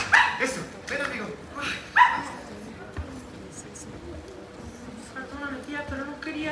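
A dog barks a few times on a musical theatre stage, sharp yaps near the start and again around two seconds, mixed with actors speaking and stage noise.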